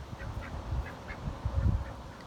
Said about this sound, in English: Hi, duck.